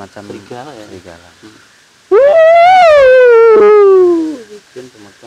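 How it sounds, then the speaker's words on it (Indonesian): A loud, wolf-like howl rises and then slowly falls over about two seconds, amid reported attacks on village livestock by an unknown predator; people talk before and after it. "bunyinya kayak macam serigala ya"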